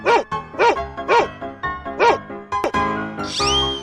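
A dog barks five times in a quick, even series of loud, close barks, followed by a rougher, rising howling yelp at the end.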